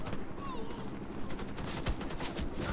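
Gunfire in the online shooter Warface, dense overlapping bursts and rattling shots at a steady moderate level, with players talking over the firing.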